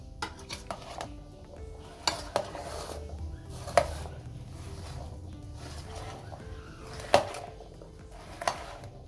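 Fruit salad being tossed in a bowl: faint, scattered clinks and taps of a spoon against the dish over a quiet background, with a few sharper knocks standing out.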